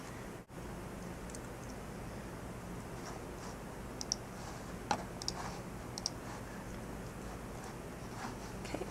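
Computer mouse clicks while working in InDesign: a few faint, sharp ticks scattered over a quiet room hum, spaced irregularly across several seconds.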